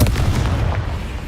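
A Confringo fire spell explodes in Hogwarts Legacy, a single loud, deep blast with a low rumbling tail that fades over about a second.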